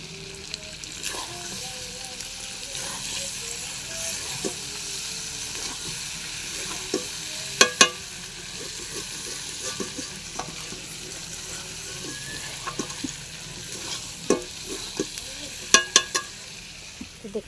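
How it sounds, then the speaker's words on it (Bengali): Chicken curry meat sautés in a hot pan with chilli powder, a steady close sizzle and frying hiss running throughout, broken by sharp scrapes and clacks of a spoon stirring. "ভালো করে মাংসটাকে কষিয়ে নেবে"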